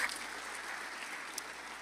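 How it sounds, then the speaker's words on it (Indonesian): A church congregation at a worship service claps for Jesus, a brief, fairly faint wash of steady clapping that holds evenly throughout. "Tepuk tangan buat Tuhan Yesus"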